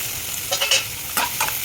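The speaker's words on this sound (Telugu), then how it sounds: "ఆనియన్ పచ్చిమిర్చి వేసుకొని బాగా కలుపుకోవాలి. దీంట్లోనే వెల్లుల్లి వేసేసుకోవాలి." Onions, green chillies and garlic sizzle in oil while a spoon stirs them with a few quick scraping strokes in a pan, close and brief.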